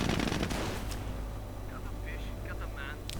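Gunfire from a World War II strategy game, a dense rattle of machine-gun and rifle shots in the first half-second that thins into scattered distant bursts and battle noise, with a commentator talking over it throughout.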